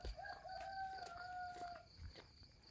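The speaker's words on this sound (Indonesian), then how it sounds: "Di pagi hari seperti biasa ayam berkokok ya" A rooster crows in the morning in a village, a single long, fairly faint call over quiet background ambience.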